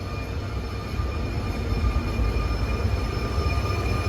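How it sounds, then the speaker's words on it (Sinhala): A train rumbles steadily at a station in Brasov, Romania, a low heavy roar with faint high tonal whine, growing slightly louder as it rolls in; no voices. "ට්‍රේන් එකක් දැන් ඇවිල්ලා තියෙන්නේ."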